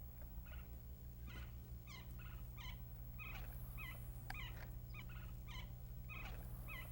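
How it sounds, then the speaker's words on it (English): Birds tweet repeatedly in short, chirpy bursts over a low steady background rumble at a lake, the calls fairly faint and spaced in an uneven rhythm. "Listen to the birds tweeting."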